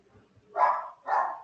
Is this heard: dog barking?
yes